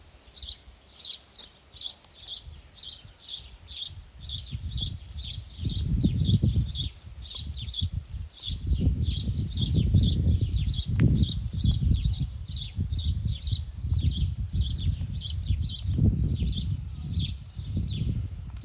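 Garden birds near a hazelnut bush chirp in a rapid, regular series of sharp, bright calls, repeating throughout, while a person talks and low handling noises continue underneath.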